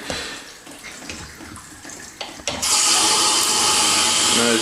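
Water from a Moen Roman tub diverter starts up abruptly, jumping from low background to a loud, steady rushing and spraying flow that holds constant close by.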